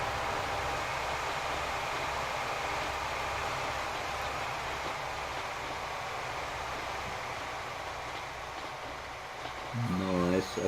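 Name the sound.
train running in video game Transport Fever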